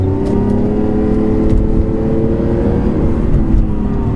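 A modified Lamborghini Aventador pulls hard under throttle, a steady loud engine roar with rising whine layered over road and wind noise, heard from inside the car without talk.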